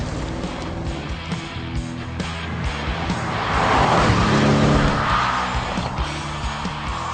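An Audi RS7 drives under sustained engine drone with broadband road and tyre noise, swelling louder midway through as it accelerates, with no talking over it.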